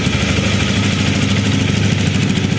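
A 2017 Honda Rebel 300 motorcycle idles steadily close by, a smooth, low, even engine hum that holds constant throughout with no revving or voices.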